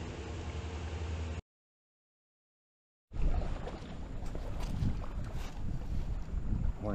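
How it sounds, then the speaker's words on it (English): Strong wind and choppy water slapping near a bridge on a windy morning, loud and steady with microphone wind buffeting, after a brief silent gap near the start. "It's very windy. As you could hear the chop coming off the water."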